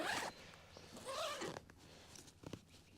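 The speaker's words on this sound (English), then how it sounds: "you can actually send the zippers all the way down the sides and open the bag up fully" A zipper is drawn along the side of an Oztent RS1 canvas swag bag, with a few quick rasping pulls close up at the start and middle of the clip and light handling rustles between them.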